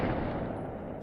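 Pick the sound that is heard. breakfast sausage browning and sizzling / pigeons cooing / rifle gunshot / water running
rifle gunshot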